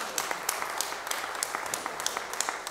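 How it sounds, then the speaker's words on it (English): An indoor audience applauds puzzle teams with brisk, fairly loud clapping throughout, sharp individual claps standing out from the patter. "Round of applause for our puzzlers."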